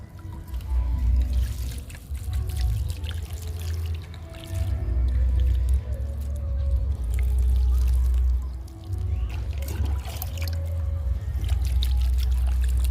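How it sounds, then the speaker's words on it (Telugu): Water poured from a container onto soil-filled garden tubs freshly sown with fenugreek and amaranth seeds, a steady close trickling and splashing that keeps going with short breaks. "కూరకి తోటకూరకి వాటర్ ఇచ్చేద్దాము"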